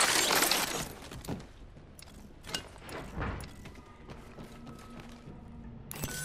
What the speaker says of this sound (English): You hear that? There's a care package coming down.